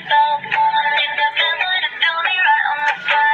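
A dancing cactus toy plays a bright electronic tune, with dense, steady melodic notes repeating for a few seconds at close range and no talking.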